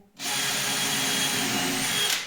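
A power drill whines steadily as it bores dowel holes into wood for a hanging cabinet, one continuous high-pitched run starting abruptly after a brief silence.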